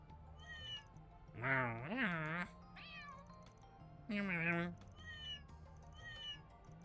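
Cats meow in the video game Trails Beyond the Horizon, set up high in a city: two long, clear, rising cries a few seconds apart, with shorter softer mews between them and a quiet music bed underneath.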